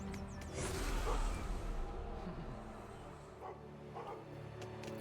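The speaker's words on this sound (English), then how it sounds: "Oh, look, a little dog." A small dog in the video game God of War: Sons of Sparta gives a few short yips and barks over a steady game music bed, fairly close and moderately loud.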